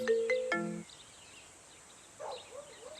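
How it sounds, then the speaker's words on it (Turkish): A mobile phone ringtone plays a short melodic burst of bright tones up close, followed by quiet room ambience and faint chirping sounds. "Aç şu telefonu Savaş ya."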